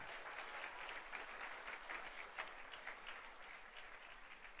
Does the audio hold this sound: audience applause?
yes